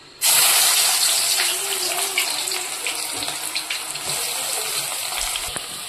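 Chopped onions hit hot oil with a bay leaf in a pan for pav bhaji, giving a sudden loud sizzle that settles into a steady, close hiss and crackle.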